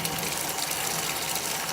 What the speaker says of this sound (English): with anything bubble from Lush, really you just have to hold it under the water for it to produce any bubbles